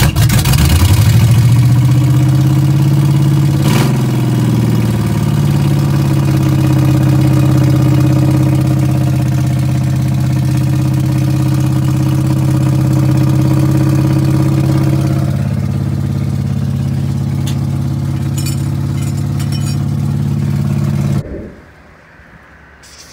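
Carbureted car engine with a vacuum leak and an unhooked exhaust idles loudly and steadily in a close, continuous drone that runs unbroken for about twenty seconds, then cuts off abruptly near the end.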